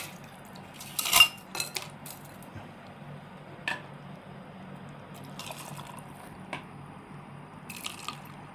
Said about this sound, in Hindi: मैं गिलास में डालने लगा हूँ।